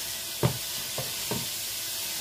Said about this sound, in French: on fait revenir les lardons sur feu très vif pour que ça puisse dorer